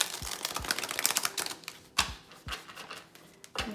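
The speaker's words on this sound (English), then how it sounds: "Let me shuffle" Tarot cards being shuffled by hand give off rapid, papery riffling and flicking bursts with a few sharper slaps as the deck is squared, close and moderately quiet with no talk.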